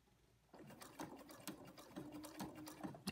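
After a short silence, a sewing machine starts up and stitches fabric held taut with tape for a sewing machine organizer. It gives a quiet, close, rhythmic mechanical clatter.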